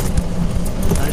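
A car drives along a palm-lined road on an island, its low engine and tyre rumble running steadily close by while people talk over it.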